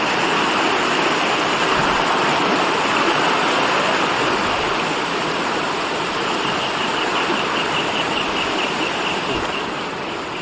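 Bandaje waterfall near Belthangady roars in a constant, dense rush of falling water, loud and close, unbroken for the whole stretch with only a slight easing at the end.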